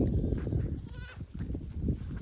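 A herded goat bleats close by, a single wavering cry that rises out of a low, rumbling outdoor background with no speech.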